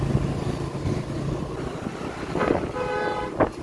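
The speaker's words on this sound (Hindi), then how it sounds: "कोई तो हॉर्न मार रहा।" Vehicle horns honk on a busy Indian street amid steady traffic and engine noise, with a couple of short toots rising near the end of the stretch.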